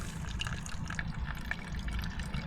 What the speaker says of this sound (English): Hopefully we're draining everything that's in the fuel rail at this point.